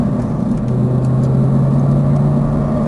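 Audi race car at Exotic Racing Las Vegas on throttle, a loud, steady engine drone with a sustained low-pitched tone that rises slightly near the end.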